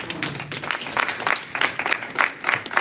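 Scattered audience clapping at a dinner event greets an introduced president, moderately loud with uneven bursts of hand claps and some crowd noise.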